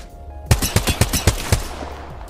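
Rapid burst of R-301 rifle fire in a video game, about seven evenly spaced sharp shots in quick succession, loud and close, followed by a short fading tail.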